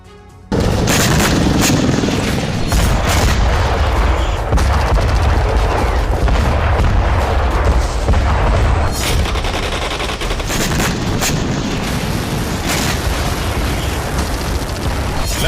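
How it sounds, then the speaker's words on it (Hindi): North Korean artillery firing practice produces a continuous, loud barrage of booms and explosions, with overlapping blasts and rumbling detonations sustained throughout without a break. "उसने आर्टिलरी से फायरिंग का अभ्यास कराने के साथ ही"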